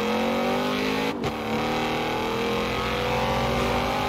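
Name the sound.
car engine revving in video game Forza Horizon 4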